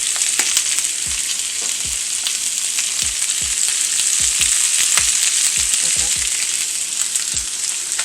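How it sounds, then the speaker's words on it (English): Vegetables sauté in a pan with a continuous dense sizzle and crackle, punctuated by soft irregular pops and stirring knocks. "Now we're going to go ahead and let these veggies saute."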